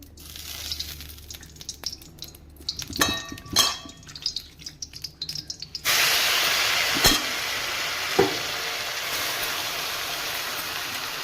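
Asafoetida dropped into a little hot oil in a wok sets off a broad, steady sizzle that jumps in loudness partway through and holds, following scattered clinks and stirring noises.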